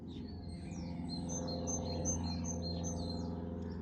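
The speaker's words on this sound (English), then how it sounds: "listening to the birds" Birds chirping and tweeting in repeated short calls over a low steady hum, moderately distant.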